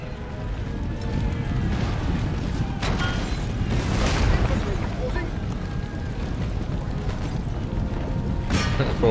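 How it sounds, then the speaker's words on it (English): Cannons fire in a naval or land battle in Empire: Total War, with repeated booms and rumbling blasts over a dense battle din as someone talks. "Load our cannons"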